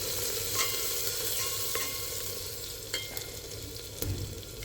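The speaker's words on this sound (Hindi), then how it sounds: "हल्दी भी होगी फ्राई।" Turmeric fries in a hot tadka in a pan, with a steady sizzle broken by a few sharp pops and spatters while it is stirred.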